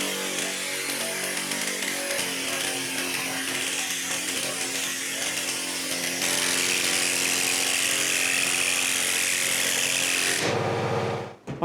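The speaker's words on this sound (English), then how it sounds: "And now I'll keep on sanding." Body filler being sanded on the decklid of a 1968 Mustang, a steady abrasive rasping that runs continuously and grows louder and denser about halfway through, close and alone with no talking, ending in a sudden cutoff.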